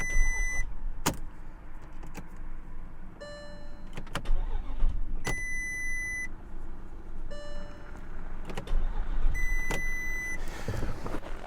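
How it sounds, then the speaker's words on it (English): A Porsche Cayenne with a failing starter motor clicks and cranks in repeated short attempts, with dashboard chimes sounding between tries and a rougher burst of mechanical noise at the end. "Oh yeah, the starter motor's on its way out."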